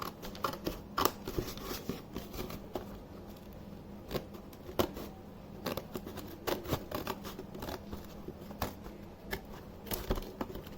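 Scissors snip out a window shape from paper or card for a doll's yoga room, a quiet, steady run of small crisp cuts close by with soft rustling between them.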